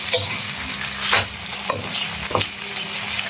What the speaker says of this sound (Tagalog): So yung mga palangga, haluin natin para sumarap ang lasa.